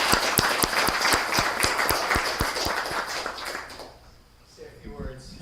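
Audience applause at a school district ceremony honoring a long-serving employee, steady rhythmic clapping from a crowd that tapers off after about four seconds, with voices and talk underneath.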